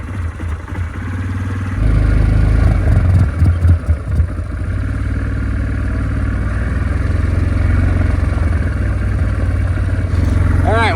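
A Kodiak 400 ATV with a gunked carburetor rumbles loudly and close while being ridden, its engine surging and sputtering unevenly under throttle over a steady drone.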